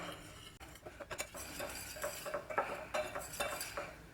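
Dry black forest cake ingredients, flour with cocoa powder and a teaspoon of baking powder, being stirred in a bowl for a no-oven cake, giving soft steady scraping with light metallic clinks of a utensil against the bowl, close and moderately quiet.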